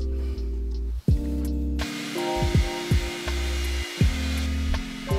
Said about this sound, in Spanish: Primero con secador y después le doy forma con el peine secador que tengo de Roventa.